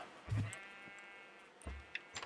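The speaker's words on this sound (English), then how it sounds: "let's go ahead and feed our sheep" Sheep in a Minecraft farm give two short synthetic bleats, close and clear against a quiet background.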